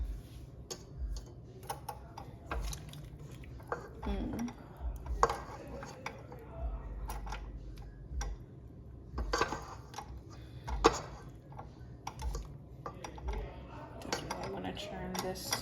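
Homemade butter mashed in a bowl with utensils, giving repeated soft clinks and scrapes of metal against the dish at an irregular rhythm, close by, with brief talk in between.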